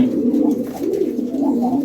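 Female pigeons in a loft cooing, low rolling coos repeating in a steady rhythm, close and loud with no talk.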